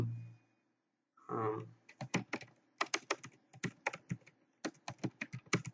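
Close computer keyboard keys clatter in quick, uneven bursts while HTML title tag text is typed, following a short soft rustle near the start.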